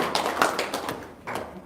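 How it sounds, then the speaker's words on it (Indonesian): A few scattered hand claps sound close by at a religious talk gathering, brief uneven taps spread across a couple of seconds rather than full applause. "tepuk tangan dong."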